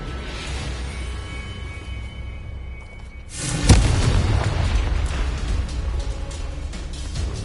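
The Confringo fire spell in Hogwarts Legacy erupts as one sharp, heavy boom after a stretch of quieter ambience, then leaves a loud roaring, crackling fiery rumble that carries on to the end.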